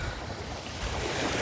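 Sea waves surging onto a beach during morning sea bathing, a continuous rolling roar that swells toward the end, mixed with wind buffeting the microphone.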